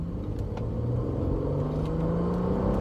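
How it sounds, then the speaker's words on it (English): A 2013 Mercedes C350 accelerates uphill at about half throttle, its engine a steady, close low rumble with a rising tone that holds throughout, no voices over it. "I'm gonna give it some gas uphill and see how it does"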